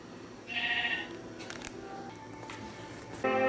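Sheep in the Minecraft video game bleating, with one clear bleat early on and another starting at the very end, over a low background hum.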